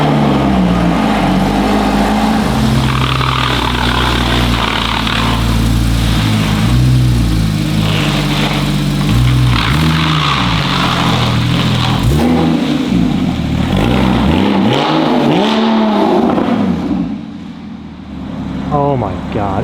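A Porsche with a roll cage pulls out of a garage at night, its engine loud and close, revving up and down in repeated swells before settling and fading near the end, with a voice talking over it.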